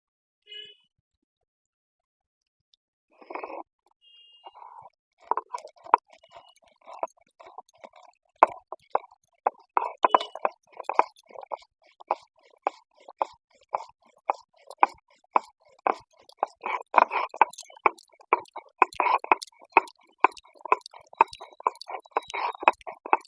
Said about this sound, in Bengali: আদা কাঁচা লঙ্কাটা বেটে নেবো।